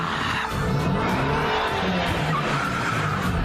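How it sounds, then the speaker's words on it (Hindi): Cartoon cars from the Motu Patlu cartoon skid in from every direction, a loud, continuous smear of squealing tires and revving engines filling the whole stretch. "यहाँ से गाड़ी, वहाँ से गाड़ी, हर तरफ से गाड़ी ही गाड़ी"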